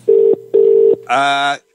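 A telephone line tone sounds while a call is put through on a radio phone-in show: two identical steady beeps followed by a harsher, buzzier tone, loud and alone.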